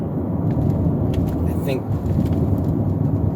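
A 1993 Lexus LS400 with an all-aluminum V8 gives a steady, smooth engine and road rumble from inside the car as it accelerates, while people talk over it.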